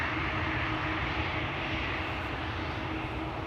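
A KLM Boeing 737-900 airliner in SkyTeam livery at Schiphol Airport gives off a steady, loud broadband engine roar that holds evenly throughout, with no voices.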